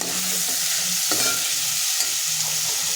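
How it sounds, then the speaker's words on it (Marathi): Chopped tinda (round gourd) sautéing in hot oil, a steady close sizzle with soft stirring scrapes and one sharper clack midway, no voices. "ती टाकून घ्यायची आणि तेलावरती परतून घ्यायचे"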